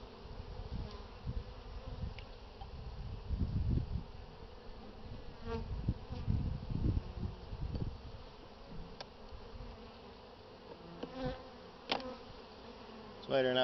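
Honey bees buzz around an open hive during a spring inspection, a steady close insect drone with louder swells and scattered nearby wing passes, with no talk.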